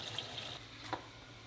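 Tap water runs softly into a sink as dyed red K'nex crossties are rinsed, a faint steady trickle with a couple of small splashes and drips.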